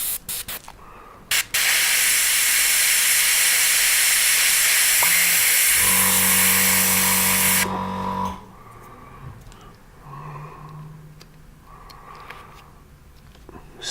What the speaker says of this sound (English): You can be really delicate with an airbrush